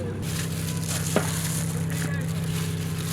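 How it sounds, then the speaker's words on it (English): Potatoes sizzle steadily in hot oil while being fried for a Hyderabadi mutton biryani, a close, continuous crackling fry with a brief stir or clink partway through. "fry potato"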